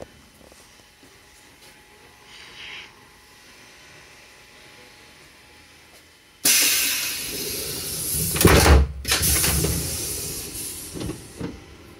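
Quiet hum at first, then a sudden loud hiss as a Southeastern train begins pulling away from a platform at Dartford station, rumbling and clattering with bursts of air noise.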